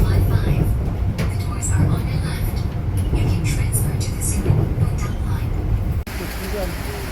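Inside a train leaving Pyeongtaek City station in South Korea, a loud, steady rolling rumble and rattle continue throughout while voices talk over it.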